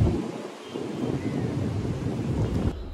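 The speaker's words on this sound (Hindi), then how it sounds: "देखो बहुत ही अच्छा मौसम है और बारिश हो रही है" Steady rain pours down during a thunderstorm, with a deep rolling thunder rumble under the dense hiss of the rainfall. The sound stays loud and continuous.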